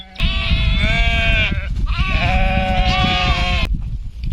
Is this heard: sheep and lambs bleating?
yes